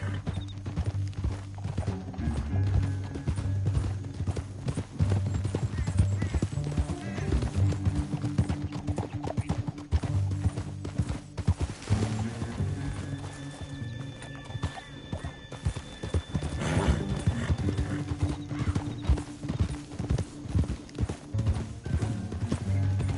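Horse hooves clip-clop at a steady galloping rhythm in Red Dead Redemption 2 on PS5, loud and continuous over a low droning music bed, with occasional whinnies and no talking.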